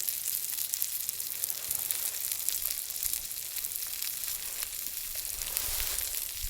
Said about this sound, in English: I'll wait for them to stop sizzling, then put them in the buns and we're good to go.